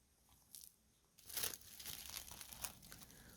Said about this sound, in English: cover this with plastic wrap